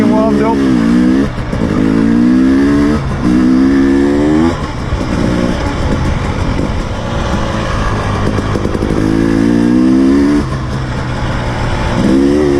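A 2019 KTM 300 TPi two-stroke dirt bike engine revs hard while riding on dry, sandy terrain, rising and falling repeatedly in loud, close bursts between gear changes.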